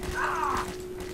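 A brief mechanical clack and slide of a weapon reloading in the Black Mesa game, a single close action of just over a second.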